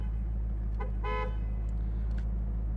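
A 2004 Chevrolet Corvette convertible horn sounds one short, clear honk from inside the car over a low steady rumble, with a couple of faint clicks before and after.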